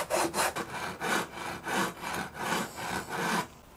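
Steady back-and-forth rasping strokes of 80 grit sandpaper on a leveling beam scraping over a custom guitar build, close and rhythmic, about two strokes per second with no talking.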